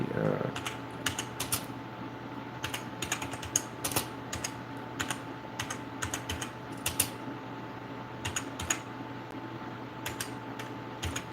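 Fingers type on a white computer keyboard in an office, giving irregular bursts of light clicks and key taps over a steady fan hum.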